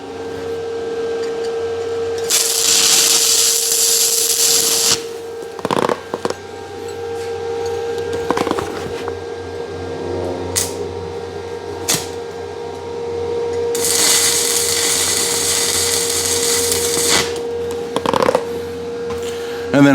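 A guillotine tool shank is tack welded in place in a workshop, with two long, loud bursts of harsh crackling welding arc and a continuous electrical hum between them.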